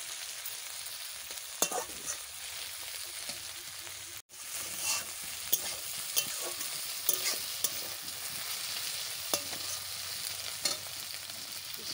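Okra (bhindi) fries in a pan over a large wood fire, a soft, fairly faint sizzle broken by repeated sharp scrapes and clicks of stirring, with no speech.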